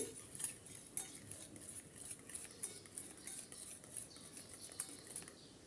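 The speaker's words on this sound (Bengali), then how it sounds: "তেলটা আমি ভালো করে এর সাথে মিক্স করে নিচ্ছি" Soybean oil being whisked into beaten batter in a bowl for a pan cake, heard as quick, light clinking and scraping of a utensil against the bowl, soft and close, with no voices.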